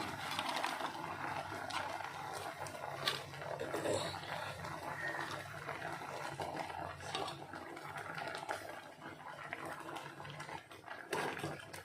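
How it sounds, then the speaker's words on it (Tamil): A spoon stirs jaggery into jackfruit payasam in a pan, with steady scraping and light metallic clinks over a continuous soft sizzling bed. "இதை நல்லா மிக்ஸ் பண்ணி விட்டுக்கலாம்."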